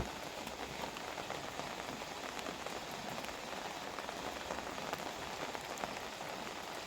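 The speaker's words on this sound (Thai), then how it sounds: "วันนี้นะครับฝนตกนะครับด้านนอกฝนตก" Steady light rain falls outside, pattering continuously on a surface, soft and even throughout, with no voices, early morning.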